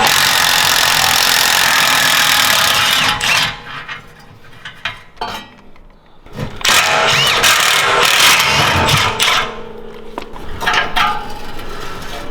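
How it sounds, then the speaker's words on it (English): An impact wrench with a 12 mm socket zips out exhaust collector bolts on a Honda Talon during a Trinity Stage 5 exhaust install, a loud buzzing burst followed by several shorter intermittent bursts close by. "I'm going to use a 12 mil socket in the impact."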